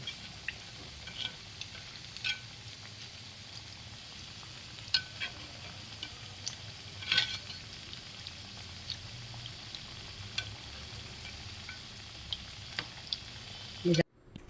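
Kodubale dough rings frying slowly in hot oil, a steady low sizzle and bubbling with scattered soft pops and crackles throughout, fairly quiet and even, with no talking.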